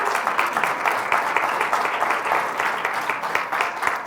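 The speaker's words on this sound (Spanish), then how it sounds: "Démosle un aplauso al Señor." A church congregation claps together in a dense, sustained round of applause, loud and fairly even across the whole stretch, with some voices mixed in.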